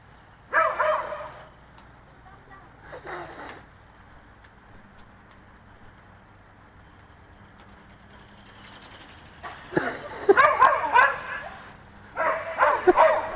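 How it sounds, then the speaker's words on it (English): A dog barks excitedly at a Hanvon Go Go Bird RC flying bird, with short bursts early on and a louder flurry of barks and yips near the end over a low motor hum. "This is driving my dog nuts."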